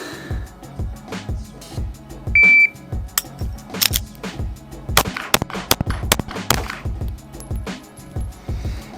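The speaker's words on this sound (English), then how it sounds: "fire 5 rounds" Five sharp pistol shots crack in quick succession from the 7-yard line during a timed qualification drill, loud and close among softer clicks, handling noises and electronic timer beeps.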